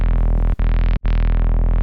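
A dense, buzzing synth bass made in Serum 2 with soft clipping distortion and LFO shaping drones loudly and continuously, briefly cutting out twice for short gaps between held notes.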